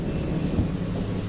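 Steady rain hisses over a deep, rolling rumble of thunder, a dense continuous wash with no pauses across the short stretch.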